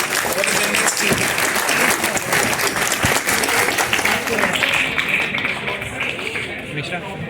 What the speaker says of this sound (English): please have a big round of applause for the next speaker